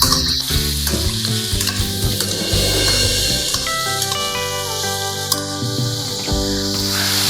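Prawn pancake mixture with capsicum sizzles loudly in a pan while a utensil stirs and scrapes through it, crackling steadily and close up.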